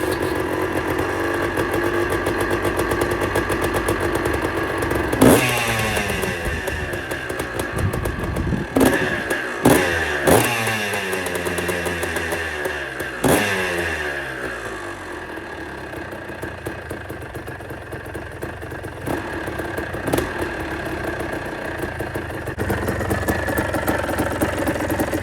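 A freshly rebuilt Kawasaki KDX200A motorcycle engine kicked over with the choke on, catching after a few stuttering bursts and then settling into a steady, close, rattling idle with occasional blips.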